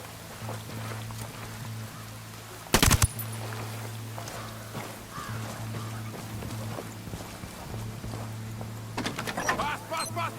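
Short bursts of submachine gun fire in the open-world shooter Ghost Recon Wildlands, one sharp loud volley early and a rattling burst near the end over a steady engine-like hum and game ambience.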